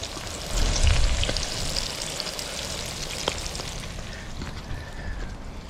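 Dried salted fish (tuyo) frying outdoors in Canada, a steady close crackling sizzle with scattered pops and a brief low thump near the start, no talking.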